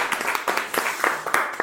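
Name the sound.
audience clapping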